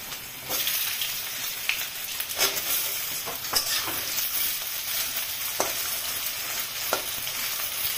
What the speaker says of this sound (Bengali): আমার তেল গরম হয়ে গেছে, একটা শুকনো লঙ্কা ফোড়নে দিচ্ছি, কালো জিরা